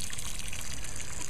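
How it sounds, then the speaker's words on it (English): Water poured out of a container of tumbled gemstones and semi-precious rocks, a steady, close rushing gush lasting the whole moment with no talk. "Okay, I'm gonna dump them out. The water, that is."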